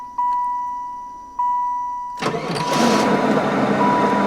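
An old car with an LT1 engine, left abandoned for 30 years on an island, gives two short electronic chimes before the starter cranks and the engine catches, settling into a rough, loud running rumble.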